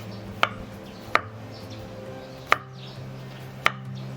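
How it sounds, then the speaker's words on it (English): A knife slices garlic on a cutting board, four sharp, separate taps spaced irregularly against a quiet kitchen background. "So here my garlic, I'm gonna cut them in small slices."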